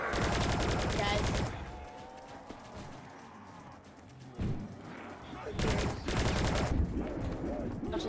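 Rapid bursts of automatic gunfire in a Call of Duty Zombies match, loud fusillades at the start and again near the end, with game sounds in between.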